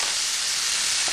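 Butter melts in a hot pan before onion goes in for pan-fried smothered pork, giving a steady, bright, close sizzle and hiss with no break for the whole short moment.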